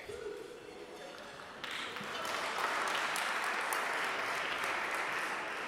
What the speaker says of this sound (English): I think you're gonna regret applauding that